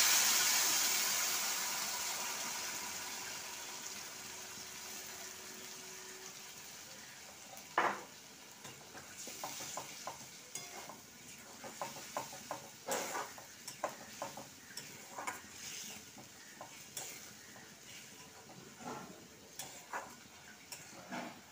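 Spice paste added to red-fried onions in a pan for Hyderabadi egg curry, a soft sizzle with scattered clinks and scrapes of stirring, fairly quiet and close.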